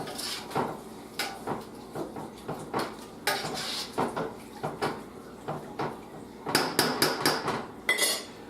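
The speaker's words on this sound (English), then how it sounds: "we are adding a little under 2 cups of rice" Dry rice tipped into a metal pot while making jambalaya, heard as a string of sharp close clinks and rattling taps of cookware, with a denser clatter of grains and metal toward the end.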